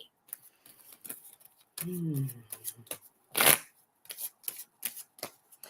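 Tarot cards being shuffled by hand, a brisk papery riffle with short bursts and one louder flurry, with a voice talking in between.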